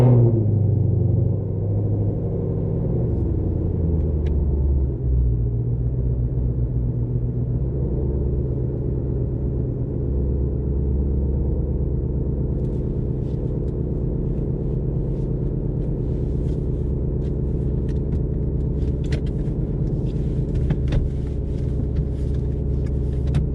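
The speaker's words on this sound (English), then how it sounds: "we're in the 2020 GT500. Let's take it for a spin." A 2020 Ford Mustang Shelby GT500 engine rumbles steadily from inside the car while driving, a continuous low drone with no speech over it.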